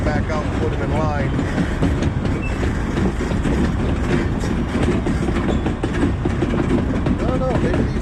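Freight railroad cars being shunted by a train through a switch, with continuous rolling wheel rumble, clicking rail joints and occasional squealing wheels, fairly loud and steady.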